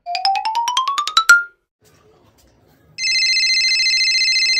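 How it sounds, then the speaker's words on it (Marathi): A telephone goes off: first a quick rising run of electronic chime notes, a short pause, then a loud steady electronic ringtone that keeps sounding to the end. "अरे काय तू फोन तर उचल, किती वेळ झाला फोन करतोय तुला"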